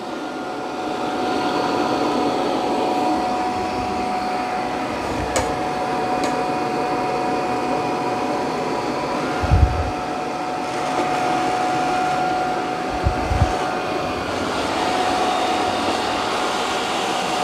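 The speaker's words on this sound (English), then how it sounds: "Now it's going to mop these muddy paw prints." A Eufy Omni C20 robot vacuum and mop works across a floor with muddy paw prints, a steady mid-level motor whir with faint tonal hum and a few soft bumps.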